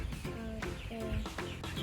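Broiler chickens on a poultry meat farm cluck continuously in a dense, overlapping flock chorus, with repeated short calls rising above a steady barnyard din, close and fairly loud.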